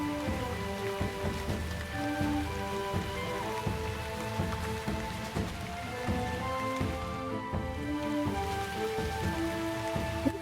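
Steady rain pattering on surfaces in the video game Shroud of the Avatar, a dense continuous hiss of drops with sustained musical tones running underneath throughout.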